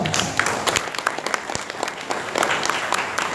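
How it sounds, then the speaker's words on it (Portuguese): Applause at a church youth service, a lively burst of many hands clapping close and loud, with uneven sharp claps and a few cheers scattered through it. "Bem, vamos aplaudir? Bem forte."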